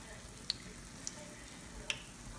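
Eggless bolinho de chuva dough balls fry in hot oil, giving a faint, steady hiss broken by three small pops or ticks spaced about half a second apart.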